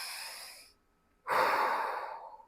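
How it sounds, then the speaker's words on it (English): A person draws a slow, deep, audible breath, exhaling softly, pausing in near silence, then inhaling again more loudly and fully; close and isolated with no talking. "take a nice full deep breath"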